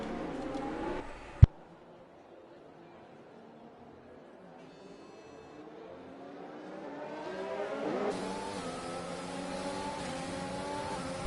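Racing car engines in an F1 video game during an esports league race at the Japanese Grand Prix, a steady droning whine that rises in pitch as the cars accelerate, with a sharp click near the start and louder revving toward the end.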